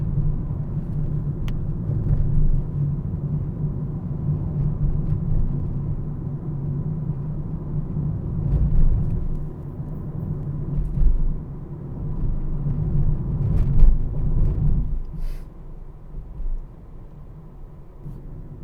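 Car driving along National Route 417 between Fukui and Gifu, a loud, steady interior road rumble with low engine drone that swells and eases slightly as the drive goes on.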